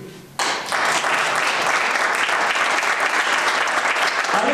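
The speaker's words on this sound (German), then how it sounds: "nochmal einen großen Applaus for our team" Loud, sustained applause from a large audience at an event in Croatia, honoring the organising team; it bursts in abruptly after a brief voice and holds a dense, even roar of clapping to the end.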